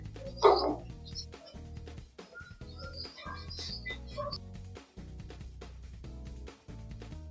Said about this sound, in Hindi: अभी यहाँ पे एक बहुत डेंजरस पपी है, ये आप उसकी आवाज भी सुन रहे होंगे।